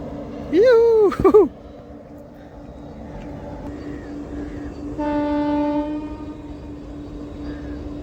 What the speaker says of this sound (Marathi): या बोगद्यामधून ट्रेन आता जाताना दिसेल आपल्याला थोड्या वेळात